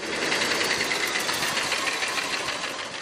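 A motorcycle engine runs close by in a steady, rapid mechanical chatter with a busy, rattling texture that barely changes in level over a few seconds, with no talk over it.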